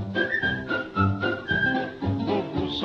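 Someone whistles a lively, bouncing tune, the melody moving in short phrases with little breaks, clear and close.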